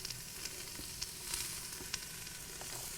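Onions and celery frying in a pan for red beans and rice, a soft, even sizzle with faint scattered crackles and light stirring clicks.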